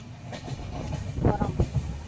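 Train running on rails near Dhenkanal station in Odisha, a steady rolling rumble from the carriage with uneven clacking peaks, close and moderately loud throughout.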